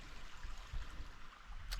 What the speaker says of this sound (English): there is a decent sized creek off to my left